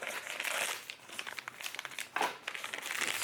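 Crinkly plastic packaging of an Aukey DR02 dashcam being handled and crumpled, a close, continuous rustling with sharper crackles near the middle and no voices.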